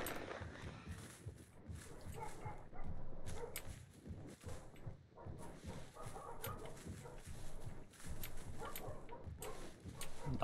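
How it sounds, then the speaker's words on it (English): Several dogs bark loudly and repeatedly in a dense, chaotic burst amid noisy background clatter during a Dead by Daylight-style game session. "Dogs are going ham."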